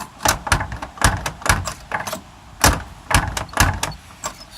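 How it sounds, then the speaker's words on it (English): A Cadillac K5 door with missing bushings slammed shut repeatedly, about a dozen sharp, loud, close thuds in an uneven rhythm over a few seconds, with no talking. "it's been bugging me that you gotta close this door with a slam because it's missing the bushings"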